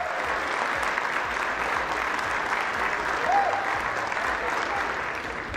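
Applause in the House chamber during the vote for Speaker of the House, a dense, continuous roar of many hands that holds steady for several seconds, with crowd murmur mixed in.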